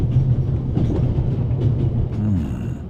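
Train rolling along in the point-and-click game The Raven Remastered, a steady low rumble with faint rhythmic clatter carrying on evenly throughout, fairly loud with no voices.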